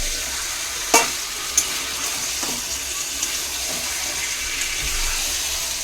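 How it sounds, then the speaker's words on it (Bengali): Chicken sautéing in a pan gives a continuous close sizzle and hiss with a couple of sharp utensil knocks against the pan, steady throughout, with no talk. "চিকেন কষাচ্ছি, এখনো হয়নি।"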